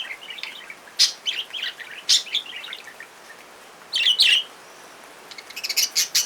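Large macaws calling in an Amazon rainforest: several sharp, bright squawks and chirps come in separate bursts, with a denser cluster near the end, over a quiet background.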